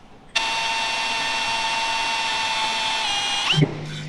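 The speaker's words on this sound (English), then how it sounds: "I'm gonna drill that and then we'll do the tapping" A power drill whines steadily at high pitch for about three seconds, close and loud, drilling a metal bracket on a van build, then winds down and stops abruptly.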